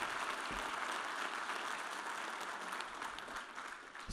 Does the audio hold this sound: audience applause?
yes